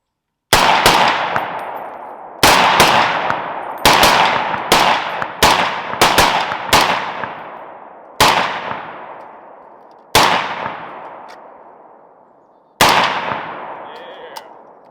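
A series of loud .308 rifle shots fired at a pumpkin target with steel-case ammunition, about eleven sharp cracks in uneven bursts, each ringing out with a long decaying echo, with no talking.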